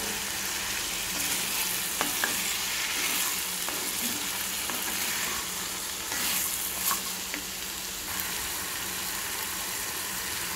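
Capsicum frying in a pan for a potato and capsicum masala fry, a dense continuous sizzle with occasional clicks of stirring, steady and close, with no talk.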